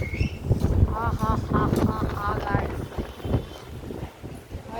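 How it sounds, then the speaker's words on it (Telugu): Strong gusting wind buffets the microphone in a low, rough rumble that runs throughout, under a person talking excitedly. "ఫుల్ గాలి వస్తుంది కదా"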